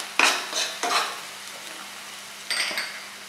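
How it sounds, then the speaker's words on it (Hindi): Schezwan sauce being stirred into corn frying in a pan for a hot and corny appetizer: three scraping stir strokes over a soft sizzle, close and fairly loud, with no talking. "बाद में हम इसमें डालेंगे शेजवान सॉस."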